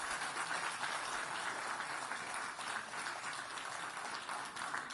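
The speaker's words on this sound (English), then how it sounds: "Well-deserved applause." An audience at a Hong Kong auction of a wristwatch owned by the last Chinese emperor claps steadily, a dense, even roar of applause held at moderate level throughout.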